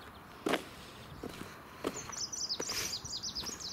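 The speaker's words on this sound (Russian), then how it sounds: "Птички поют, Господа славят." Small birds chirping and twittering outdoors beside a church, a quick run of high tweets in the second half over faint ambient noise, with a few soft footsteps or knocks earlier.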